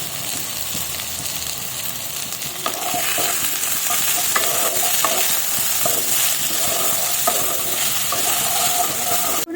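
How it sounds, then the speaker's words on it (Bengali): Potatoes and carrots, seasoned with salt and turmeric powder, sizzle in a pan while a spatula stirs them with repeated scraping strokes over the constant frying hiss. "আলু আর গাজরটা মোটামুটি ভাজা হয়ে এসছে।"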